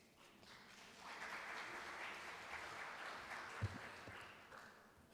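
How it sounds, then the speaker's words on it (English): Applause from the audience at a forum session, fairly faint and distant, swelling after a second into sustained, even clapping that holds to the end with a single louder thump partway through. "thank you for that round of applause"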